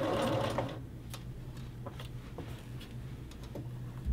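A sewing machine whirs briefly at the start while basting a men's shirt collar, followed by faint intermittent mechanical ticks and clicks over a low hum.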